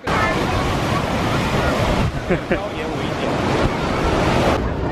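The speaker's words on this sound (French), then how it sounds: "Il y a des sacrés vagues" Heavy ocean surf pounds a beach in a steady, loud wash, with strong wind buffeting the microphone throughout and a brief lull in the middle.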